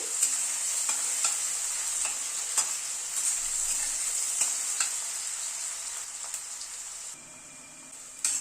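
Onions frying in a pan over a medium gas flame make a constant bright sizzle punctuated by irregular clicks of stirring, dropping quieter near the end before a final scrape.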